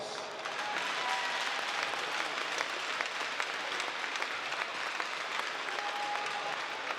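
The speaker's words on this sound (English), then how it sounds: "I ask that you give them a great round of applause" A crowd at a high school boys' hockey game applauds veterans and military personnel, steady dense clapping sustained at even loudness throughout, filling the arena without speech.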